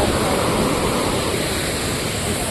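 Amboli waterfall pours down in a loud, broadband roar of rushing water, constant and close with no break or audible talk.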